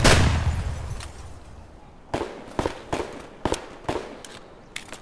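Gunfire in the video game Escape from Tarkov, a loud close report at the start followed by a rapid irregular series of sharp cracks of varying loudness, some at a distance.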